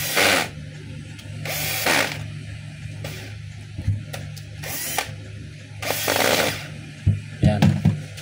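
A power drill drives four screws tight in a run of loud whirring bursts separated by short pauses, the last few bursts quick and choppy as each screw seats.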